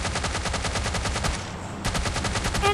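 Rapid automatic gunfire from a duo-versus-duo battle royale video game, bursts of dense repeated shots running almost continuously with a brief lull midway, loud and close with no talking.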